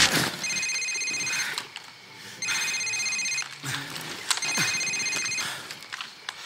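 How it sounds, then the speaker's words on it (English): Cell phone ringing in the video game Call of Duty 4: Modern Warfare, three repeated electronic ring bursts with short gaps, fairly clear over a faint background. "Sir, it's his cell phone."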